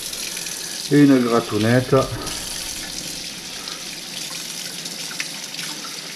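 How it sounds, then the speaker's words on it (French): Tap water running into a kitchen sink: a steady, moderate stream of flowing water. A voice speaks briefly over it early on, then the running water continues alone. "je me dirige vers l'évier du matin, un petit peu d'eau, un produit lessiviel"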